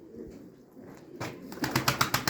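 Pigeons cooing at close range, including Iraqi cobra, Mosul yellow and homing breeds, a soft low murmur that builds into several rapid, pulsing coos toward the end, with faint wing or cage rustles.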